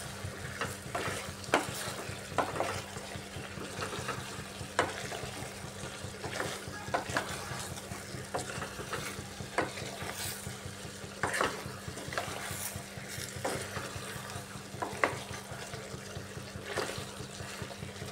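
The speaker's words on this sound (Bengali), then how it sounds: "একটু সময় কষিয়ে ঝিঙ্গার জলটা একটু শুকিয়ে নিচ্ছি।" Ridge gourd sautés in a pan as its released water cooks off, a steady wet sizzle with continual scraping stirs and occasional clacks of the spatula, over a constant low hum, heard close up without speech.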